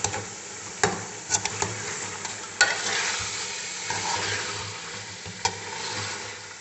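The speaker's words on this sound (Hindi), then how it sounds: "5-6 मिनट हो गया मैं भूनते हुए मटन को।" Mutton is fried in a pan with freshly ground masala while being stirred, giving a steady close sizzle broken by sharp scraping and clinking of the spoon against the pan.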